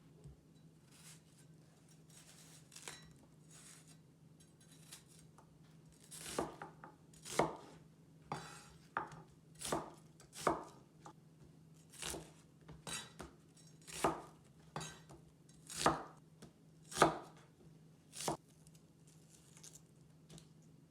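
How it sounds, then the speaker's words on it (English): Onion chopped into chunks with a knife on a cutting board, a quiet start followed by a dozen or so distinct knocks in an uneven rhythm, close and clean, no talking. "Cut the onion into chunks."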